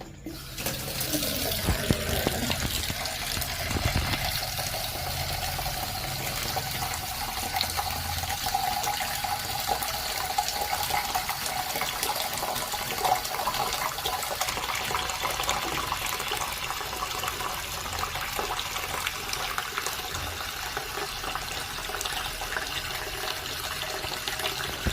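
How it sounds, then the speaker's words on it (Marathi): A hot-water tap runs steadily into a mug, a continuous close splashing gush that fills the whole stretch with no talking. "या मगामध्ये गरम पाणी काढून घेतोय."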